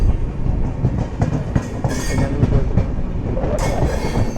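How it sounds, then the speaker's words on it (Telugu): Sanghamitra Express passing, a heavy steady rumble of rolling coaches with rattling wheels and occasional sharp metallic squeals and hisses, loud and close throughout. "మంచి హై డిమాండ్ ట్రైన్ అనమాట సంఘమిత్ర ఎక్స్ప్రెస్"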